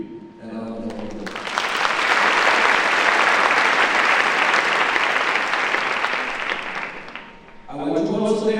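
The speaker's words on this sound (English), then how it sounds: "May we give you a round of applause." An audience at a university chancellor inauguration ceremony bursts into sustained applause, loud and dense for several seconds before tapering off, with a speaker's voice heard briefly before and after.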